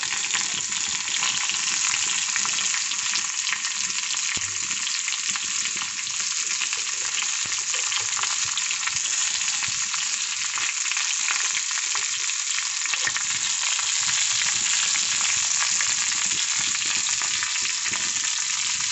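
Onions and curry leaves fry in a hot pan for a mushroom gravy, giving off a loud, unbroken, close-up sizzle that holds steady throughout.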